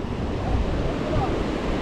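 Ocean waves break on the shoreline at Manzanilla beach, a loud, continuous roar of surf mixed with wind noise.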